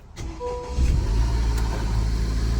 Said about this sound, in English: And bam, vehicle starts up right away.